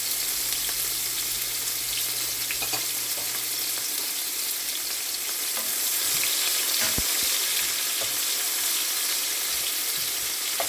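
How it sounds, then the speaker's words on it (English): Tomatoes, three peppers and scallions sauteing in warm oil on a stove, a steady close sizzle with occasional clinks and scrapes of stirring. "So I'm just sauteing this."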